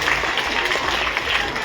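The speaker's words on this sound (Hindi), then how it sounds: "2 ताली बजा करके इन दानदाताओं की हौसला अफजाई करें" An audience at a school event applauds to encourage donors, a steady wash of many hands clapping, fairly loud and continuous, with no talk over it.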